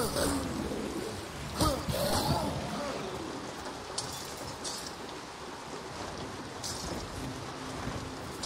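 Heavy rain falls in a video game played on a PS5, a dense, continuous hiss with a few louder gusty swells, fairly quiet overall.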